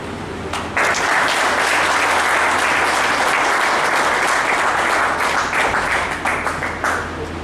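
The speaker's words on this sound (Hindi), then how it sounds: "ताली बजाने में संगीत न करें मेरे भाई।" Audience applause fills a hall at a 2023 wage agreement event in Mandideep, a dense, loud wash of clapping that starts abruptly and holds steady for several seconds before thinning slightly near the end.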